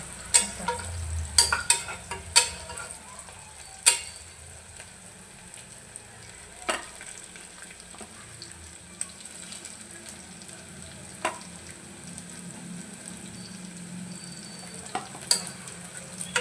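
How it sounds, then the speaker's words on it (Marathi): Sliced onions fry with salt in a pan until browning, a soft continuous sizzle broken by sharp clatters and scrapes of stirring near the start and at intervals. "थोडासा ब्राऊन करायचा आहे कांदा आपल्याला. थोडंसं मीठ टाकते म्हणजे कांदा लवकर आपला शिजेल, ब्राऊन होईल."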